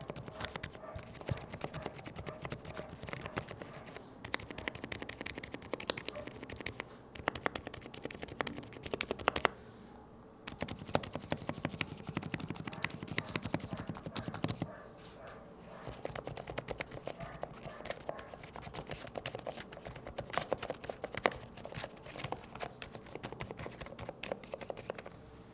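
Soft, quiet typing on an Epomaker TH80 V2 mechanical keyboard with factory pre-lubricated switches, a steady stream of muted key clicks continuing for about twenty-five seconds with a short pause midway.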